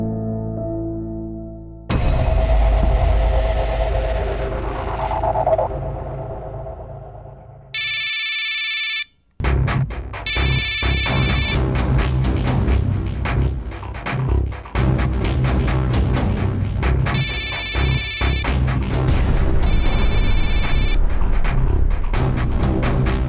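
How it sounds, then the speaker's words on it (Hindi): A phone rings repeatedly with a bright electronic ringtone, loud and close, in repeating bursts separated by brief gaps, sounding alone with no talk over it. "ये कौन तुम्हें बार बार फ़ोन कर रहा है?"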